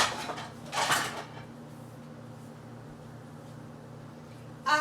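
A bowl and dishes handled in a home kitchen, with a few close clinks and rattles near the start and another clatter at the end, separated by quiet room tone.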